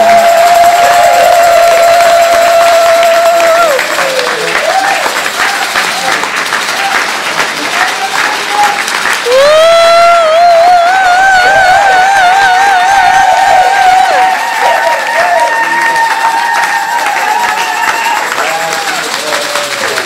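A church congregation applauds steadily for a couple called forward at a Sunday service, the dense clapping running under sustained melodic tones like singing or music.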